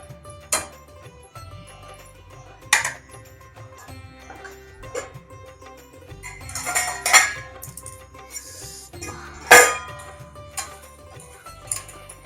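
Metal pot lid clattering onto a pot of raw mango curry cooking with jaggery, several distinct clinks and clanks spaced apart over a low background hum.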